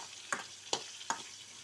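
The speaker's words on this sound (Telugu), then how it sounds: "ఇది కొంచెం దోరగా వేగిన తర్వాత ఆకుకూర ఇందులో వేయించేసుకొని" Leafy greens such as chukka kura and thotakura go into hot tempering oil, giving three sharp, brief sizzling crackles at even intervals over a soft background hiss.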